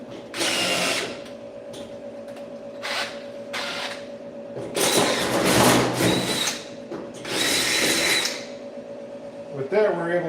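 A power drill bores through metal while fabricating a hood latch for a Lamborghini Terzo Millennio replica supercar, whining in several loud bursts of varying length with pauses between, over a steady background hum.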